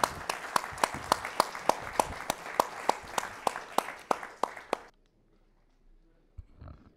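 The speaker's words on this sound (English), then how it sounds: "let's thank our speakers with a warm round of applause here." Audience applause for panel speakers at a conference on critical resources: sparse, rhythmic claps from a small crowd, fairly clear and close, lasting about five seconds before stopping abruptly into near silence.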